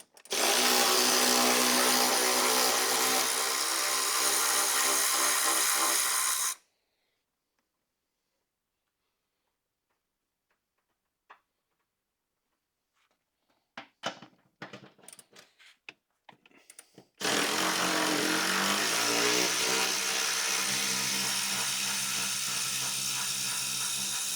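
A power tool or ratchet removing 15 mm front seat bolts in a 1999–2009 Chevy GMT-800 Silverado, two long loud whirring bursts close by, separated by silence and a few sharp clicks and clatters.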